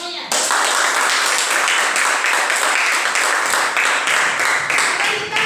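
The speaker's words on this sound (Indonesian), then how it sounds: "tepuk tangan untuk semuanya." A classroom of students applauding together, dense sustained clapping that starts abruptly and holds loud and steady for several seconds, close and crowded, with no talking over it.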